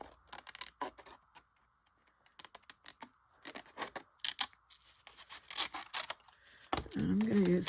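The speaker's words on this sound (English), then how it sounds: "I'm going to use the big scissor because I can do one big cut here" Scissors snip through paper while cutting out a crayon-shaped card: a quiet, close series of irregular crisp cuts and paper rustles, growing busier toward the end with a brief louder crinkle.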